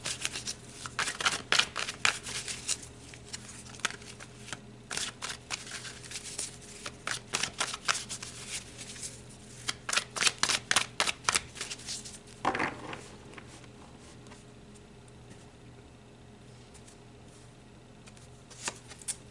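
Tarot cards being shuffled by hand, a run of crisp riffling bursts and soft flicks in an uneven rhythm, close and fairly quiet, with no one talking.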